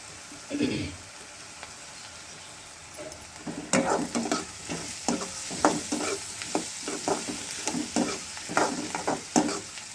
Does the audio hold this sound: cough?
no